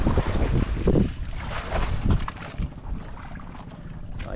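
Strong wind buffets the microphone outdoors on a fishing boat at sea, a loud steady roar with gusts and some water wash underneath, no talking.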